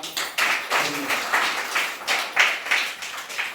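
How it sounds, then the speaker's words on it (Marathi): A crowd claps in bursts of applause at a village school's Savitri festival in Sangli, several waves of clapping rising and falling across the few seconds, moderately loud and close. "त्यांचे टाळ्या पहिल्यांदा।"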